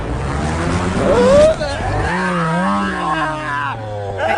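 A fast car engine revs loudly and races up in pitch, with tire squeal and a person's voice blending into the roar near the end.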